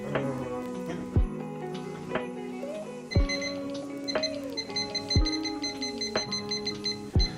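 A kitchen timer goes off while peri-peri chicken cooks in an oven set to 200 degrees on grill: a bright electronic beeping starts a few seconds in and keeps pulsing over clattering kitchen noise.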